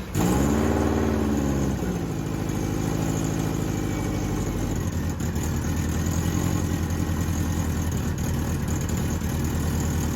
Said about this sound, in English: It finally starts, and may I be the first person to say, the GC sounds aggressive.